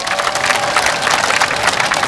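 A concert audience at the 2013 Jeong Do-jeon memorial concert breaks into sustained, dense applause, a steady wash of clapping from a large crowd with no speech over it.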